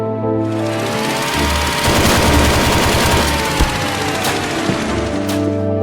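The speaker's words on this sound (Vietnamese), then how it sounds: "Phải nói là súng 6 nòng rất mạnh" Continuous rapid gunfire from a six-barrel heavy machine gun in the raft-survival game Rusty Rafts, a loud dense rattling burst running without pause, with a steady mechanical whine underneath.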